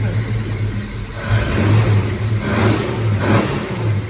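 A 1939 Ford Flathead engine in a 1948 Allard runs up close and revs in a few swells, its throaty exhaust through 1.5-inch pipes rumbling low and steady between the rises.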